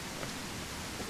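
Rain falls in the survival video game Mist Survival: a dense, steady hiss of rainfall with faint patter, constant and even throughout, no voices.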